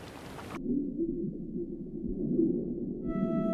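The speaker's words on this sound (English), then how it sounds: "This is what the beluga have been waiting for." Beluga whale vocalizations in polar Arctic waters: a sustained low underwater drone with a brief bright noisy burst at the start and faint tonal whistles near the end.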